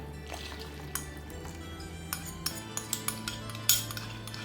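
A spoon stirs custard milk into a carrot drink in a vessel, sharp metallic clinks and taps against the sides repeating irregularly over a soft liquid swirl, close and without talk.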